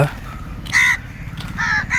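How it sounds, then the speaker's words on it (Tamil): Crows call overhead near the Adiyogi statue at Isha in Coimbatore: two or three harsh caws ring out in short bursts over a faint background murmur. "உண்மையில எவ்வளோ பறவைகள் பறக்குதுன்னு பாருங்க மேலே"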